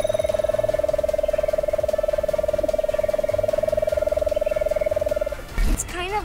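A human voice imitates the lesser nighthawk, a nightjar of the southwestern USA, with a long, steady, rapid trill held for about five seconds before breaking off into a brief rustle.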